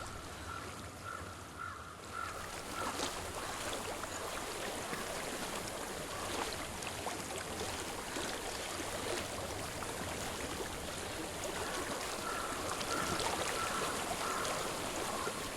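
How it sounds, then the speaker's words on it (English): Flowing stream water in the video game Hellblade, a steady wash of babbling and trickling at moderate distance, with soft tonal chirps near the start and end. "I hear water."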